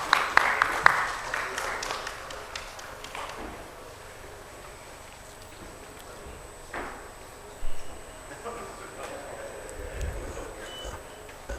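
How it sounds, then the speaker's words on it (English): Applause from a conference-hall audience at the close of a symposium session for the speaker and chairpersons, a brief dense burst at the start that thins quickly into quiet room noise with scattered bumps. "A big round of applause for our speaker and the chairpersons for this session."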